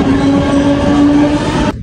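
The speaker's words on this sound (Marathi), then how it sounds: "तुझी ट्रेन आली" A train pulls into Neral station, a loud steady rumble of wheels and carriages with a sustained tonal hum, running continuously and cutting off abruptly near the end.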